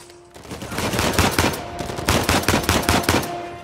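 Rapid, loud bursts of enemy shotgun and automatic gunfire in a firefight in Uncharted 4: A Thief's End, shots cracking in quick, uneven volleys nearly without pause, with game music underneath.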